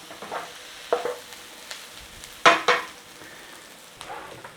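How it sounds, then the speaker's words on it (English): Onions and garlic sauteing gently in a pan, with soft sizzling under intermittent stirring scrapes and a few louder utensil clatters, close and fairly quiet. "sauteing the onions and the garlic, get rid of the rawness"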